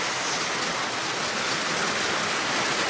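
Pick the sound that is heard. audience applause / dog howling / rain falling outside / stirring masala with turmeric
rain falling outside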